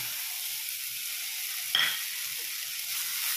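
Drumstick leaves fry in a pan over a low flame, giving a steady, even sizzling hiss with one brief sharp crackle partway through.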